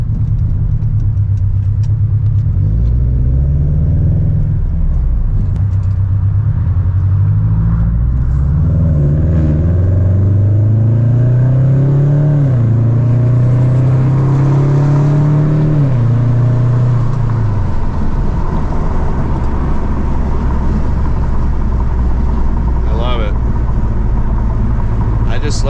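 A Subaru BRZ with a loud aftermarket exhaust rumbles at idle, then revs up and down in several rising and falling sweeps before settling back, heard close and loud for a long stretch.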